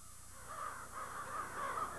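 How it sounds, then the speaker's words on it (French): A large flock of crows passes overhead, many birds cawing in repeated harsh calls that overlap at moderate distance, with no voices. "Les corneilles sont difficiles à étudier, parce qu'elles se ressemblent toutes."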